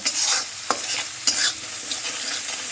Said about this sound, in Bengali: একটু হালকা তেলের মধ্যে নেড়ে নিয়ে আমি জল দিয়ে দেব